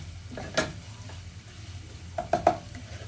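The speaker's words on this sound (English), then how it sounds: "there our garlic and our chilli. And we're just going to cook that through for about a minute" Garlic and chilli frying in a pan for an Afghan chicken curry, giving a low steady sizzle with a few sharp stirring clatters and utensil taps.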